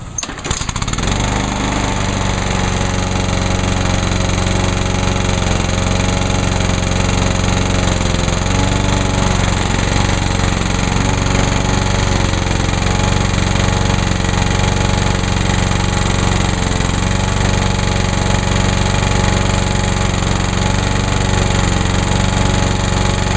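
A lawn mower engine, used earlier the same morning, fires and settles into a steady, loud, close idle with a constant harmonic drone that runs unbroken for the whole stretch, no voices over it.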